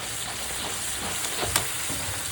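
Spice masala and grated coconut sautéing in a home pan, a steady soft sizzle with faint scraping stirs, close and continuous with no voices.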